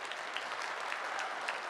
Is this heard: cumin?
no